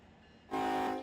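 An ES44 diesel locomotive in the RUN8 train simulator sounds a loud multi-tone horn blast that starts abruptly over a low engine rumble and holds steady to the end.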